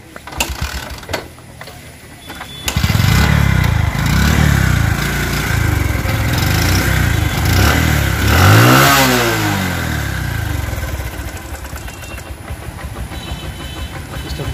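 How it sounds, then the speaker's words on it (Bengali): A used Bajaj Platina motorcycle, unwashed, kicks into life after a few mechanical clunks, then idles loud and close with a rising and falling rev in the middle before settling back to a steady putter. "এখন আপনাদেরকে আমি দেখাবো বাজাজ প্লাটিনার বাইকের সাউন্ড"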